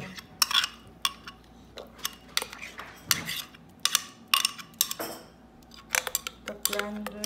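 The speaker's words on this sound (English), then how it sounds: "The blended mixture is going in the minced meat." A blended spice mixture being stirred into minced meat (keema) in a kitchen, heard as close, clattering scrapes and taps of a utensil against a pan at an uneven rhythm.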